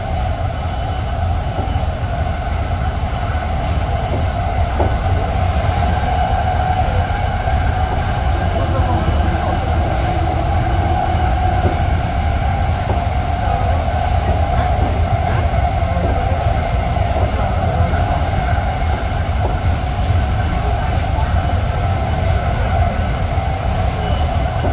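Steady rumble and rattle of the JFK AirTrain riding elevated tracks above an expressway, continuous and loud throughout, with faint squeals from the wheels and no pauses.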